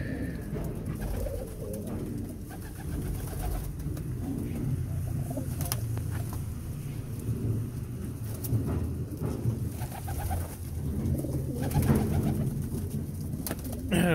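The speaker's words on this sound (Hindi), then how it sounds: "ये देखें काफ़ी खूबसूरत पिजन है" Pigeons in a desi pigeon house coo softly and repeatedly at close range, with low rumbling and scattered rustles and flutters underneath throughout.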